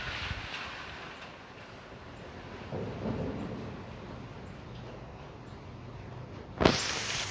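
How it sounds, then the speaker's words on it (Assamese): Windy rainstorm with thunder, a steady rushing roar of wind and rain hitting the microphone, a low rumble swelling near the middle and a sharp loud burst near the end. "কি বতাহ বৰষুণ আহিছে"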